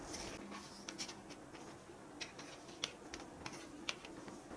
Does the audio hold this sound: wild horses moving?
no